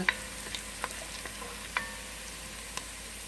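Chicken browning in a pan for adobo produces a steady, moderately loud sizzle with scattered small pops and utensil clicks. No one speaks over it.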